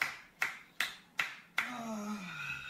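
Four sharp, evenly spaced hand claps ring out close by, followed by a voice speaking right after them.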